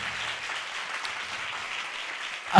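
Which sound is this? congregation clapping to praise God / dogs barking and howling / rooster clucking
congregation clapping to praise God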